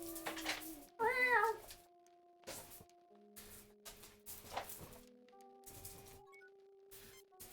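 A Terran cat in the Star Trek: Judgment Rites video game gives a short, tonal meow near the start, over faint electronic hums and soft clicks.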